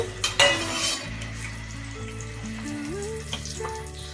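Cashews sizzle steadily in hot oil for a biryani, a continuous close frying hiss with a few stirring clinks near the start.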